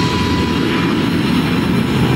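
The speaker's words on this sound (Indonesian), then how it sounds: "Wow, pesawat ya." An airplane in Left 4 Dead roars overhead as a loud, steady broadband engine rumble that fills the whole moment without a break.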